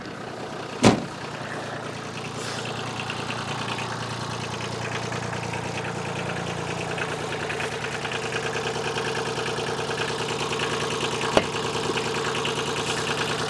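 A tractor engine idles steadily and evenly close by outdoors, with a sharp knock near the start and another brief click later.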